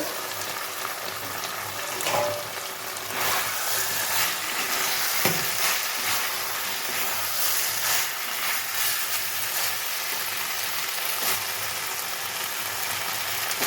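Potatoes and vegetable stalks with spices sizzle steadily in a pan, a continuous close frying hiss with a few clinks of stirring, no voices.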